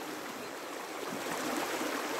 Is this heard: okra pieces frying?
no